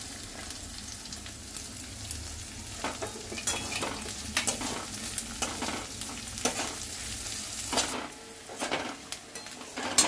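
Chopped onion fries in oil while being stirred for a Bengali chicken fry, giving a steady close sizzle broken by repeated scraping clicks of a utensil against the pan, with no talking.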